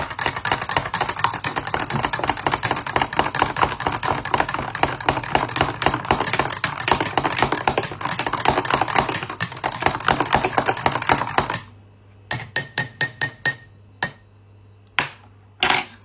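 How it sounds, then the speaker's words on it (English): A spoon stirring Milo powder into a drink in a glass: a long run of rapid, dense clinking, then slower, separate taps against the glass as the stirring ends. "One scoop, two scoop, give it a stir"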